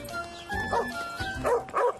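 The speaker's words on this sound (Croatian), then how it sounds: "Pas mu je zvučao ljutito." A dog barks several times in quick, sharp bursts, close and fairly loud, with a tense, aggressive edge.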